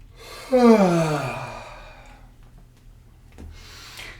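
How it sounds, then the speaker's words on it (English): A person gives a long, voiced yawn during an improvised movement warm-up, a loud opening breath sliding down into a sighing groan over about a second and a half, followed by quieter breathing and a faint second exhale. "let's take that yawn again and let's let it extend, spread throughout the whole body"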